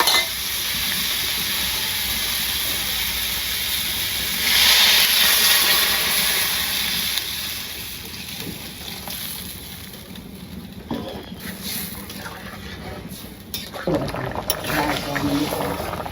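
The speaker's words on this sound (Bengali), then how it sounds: "এখন ঝোলটা দিয়ে দিই।" Broth poured into a hot pan of fried vegetables for a village-style Bengali fish curry, giving a steady steamy hiss and sizzle throughout, with a louder surge near the middle and some clattering toward the end.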